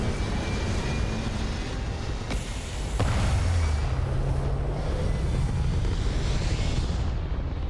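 A spaceship in the video game Starfield lifts off into the sky with a loud, steady roaring rumble and wind-like rush, swelling after a few seconds and holding strong to the end.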